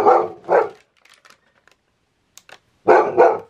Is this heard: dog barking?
yes